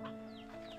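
Chickens in the video game Slime Rancher 2 give a brief, soft burst of clucking, close by but quiet.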